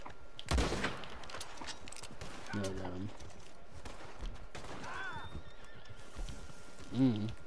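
A horse in the video game Red Dead Online neighs twice amid a PvP shootout, with a gunshot near the start and players talking throughout, all fairly faint.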